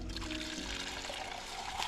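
Water poured onto plants in a Kokan village garden during summer, a steady close splashing and trickling stream running the whole time with no pause.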